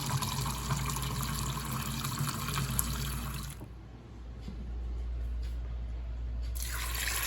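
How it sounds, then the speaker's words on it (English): Water runs steadily from a filter tap, then cuts off briefly before flowing again, with a low hum underneath. "All I have to do in here is just filter some water."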